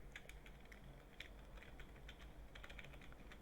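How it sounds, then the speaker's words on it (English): A deck of cards shuffled for the Gloomhaven board game, quiet rapid riffling and flicking clicks in short bursts, faint and close. "Oh, I need to shuffle my deck first."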